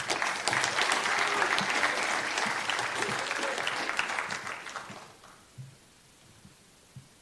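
A high school scholarship awards program audience gives a warm, full round of applause that holds steady, then fades out over a couple of seconds, leaving a few last scattered claps.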